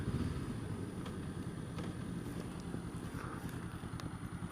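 Steady motorcycle engine drone while riding on the road in cold weather, a continuous low rumble with wind buffeting over the microphone and no talking.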